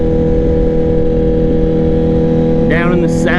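A motorcycle engine drones steadily along a winding scenic road on a weekend ride, a constant close hum with a brief rising, shifting tone near the end.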